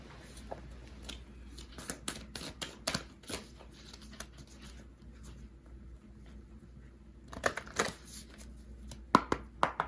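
Tarot cards are drawn and shuffled from a deck, producing soft scattered flicks and quick papery snaps, quiet and close, clustering in bursts at the start and end.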